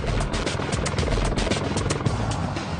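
Apache attack helicopter in flight, its rotor blades thudding in a fast steady chop over a broad, rushing roar.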